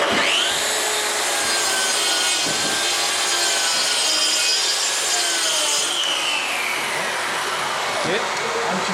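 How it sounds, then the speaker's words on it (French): A circular saw set to 10 mm depth whines steadily as it cuts through Fermacell board for about six seconds, the pitch dropping as the cut ends, with a brief second burst near the close. "je règle ma scie circulaire sur 10 mm"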